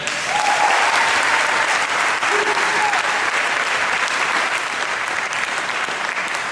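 Audience at a Constitution Day college debate in Austin bursts into sustained, dense applause that holds steady for several seconds, with a few faint voices and whoops rising above the clapping.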